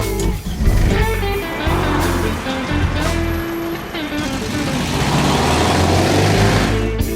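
A 1971 VW Type-3 Squareback with its 1600 engine turns over and runs, a loud, close, steady throb of low rumble with uneven surges, continuing without a break for about seven seconds.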